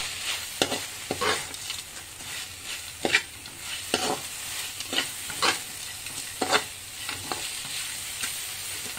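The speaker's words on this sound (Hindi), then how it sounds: "अब हम इसमें ऐड करेंगे हमारे पटेटो इन्हें अच्छी तरह से मिक्स कर लेती हूँ" Potatoes are stirred into a honey chilli potato masala, with soft sizzling under a series of distinct spoon scrapes and taps against the pan, irregular and close.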